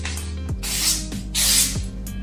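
Sharp knife blade freshly honed on a leather strop slicing smoothly through material in repeated strokes, each a soft brushing swish over a steady low background hum.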